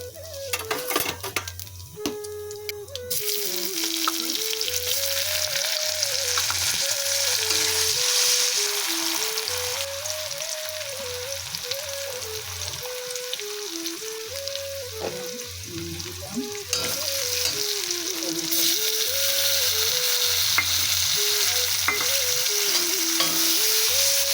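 Bay leaf, salt and turmeric sizzling in hot oil in a pan for a Bengali tel koi fish curry, a steady loud frying hiss with rhythmic scraping and stirring clinks throughout, no talk.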